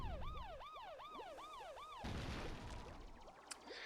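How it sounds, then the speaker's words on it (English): A wailing siren in Paper Mario: The Thousand-Year Door rises and falls in quick repeated sweeps for about two seconds, then gives way to a noisy rushing burst with faint lingering siren tones. "Just have a siren, which is fantastic to listen to."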